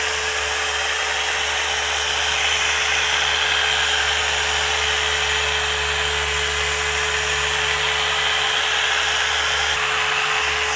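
Machine polisher grinding lacquer off a scratched hi-fi speaker cabinet, a steady high-pitched whine that holds constant and close throughout without pauses.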